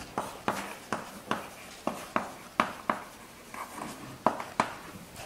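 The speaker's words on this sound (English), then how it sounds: "I should write here." Marker or chalk writing on a board during a mathematics lecture on Ricci flow, about a dozen short taps and strokes in an irregular rhythm, faint and heard at a distance in a quiet room.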